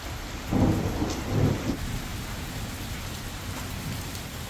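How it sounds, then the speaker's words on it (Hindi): Heavy rain roars steadily throughout, with low rumbling thunder swelling twice in the first couple of seconds before settling back into the downpour. "ये बादल नहीं है बल्कि बारिश इतनी तेज हो रही है"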